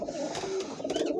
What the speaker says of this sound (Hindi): आज फिर मैं आया हूँ अपने कबूतरों के खुडे में